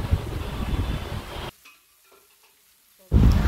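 Ground white mustard paste is stirred and fried in a pan for pabda fish curry, giving a loud, dense sizzle and scraping that stops abruptly, leaves a near-silent pause, then bursts back in at full loudness.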